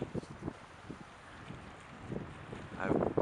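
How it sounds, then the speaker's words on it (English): Gusty wind at a lakeside campsite in Algonquin Park, buffeting the microphone and a guyed tarp in irregular rumbling bursts that grow stronger toward the end. "To give you an idea of the wind"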